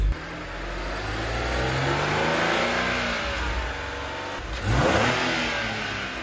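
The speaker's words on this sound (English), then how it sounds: "Looks good, our engine is running." A BMW 135i engine runs steadily, swelling as it revs up, then blipping again briefly; close by, with no talking.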